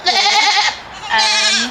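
A goat gives two loud, close bleats in quick succession, each a wavering, nasal cry with a short pause between.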